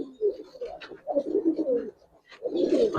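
Giribaz and coloured high-flyer pigeons coo nearby in repeated throaty, rolling phrases, with one brief pause partway through and a burst of overlapping calls at the end.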